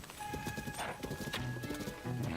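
A horse in a Zelda video game clops along in quick, rhythmic hoofbeats, and a whinny rises through them, all fairly quiet and steady.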